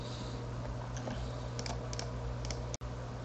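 Typing on a computer keyboard while entering CSS styles: quick, light clicking keystrokes in short bursts over a low steady hum, close and fairly quiet, no speech.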